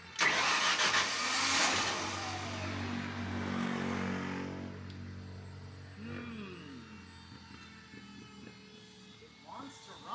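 An Onan 35EK propane generator engine cranks loudly, catches briefly and then dies away into a quieter rumble. Faint mechanical clicks and some voices follow.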